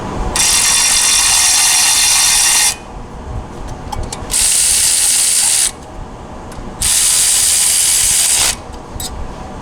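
Exhaust bolts on a CFMOTO UFORCE 1000 being tightened with a power tool: three loud, sustained buzzing-rattling bursts of a few seconds each, with quieter mechanical shuffling in the gaps.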